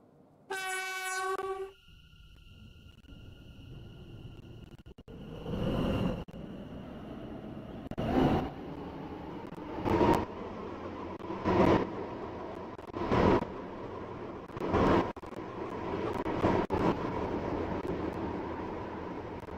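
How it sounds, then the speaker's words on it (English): AirLink shuttle train in the Stepford County Railway video game: a loud harmonic horn blast opens, then a steady run of rhythmic rolling clunks as the seven-coach set travels, with no talking. "This train is formed of 7 coaches."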